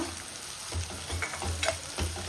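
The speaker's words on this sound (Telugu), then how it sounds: "ఉల్లిపాయలు బాగా ఫ్రై అయిపోయాయి" Onions and bay leaves fry in hot oil for mutton kheema, a loud, close, continuous sizzle broken by rhythmic scraping strokes as the pan is stirred, with no voices.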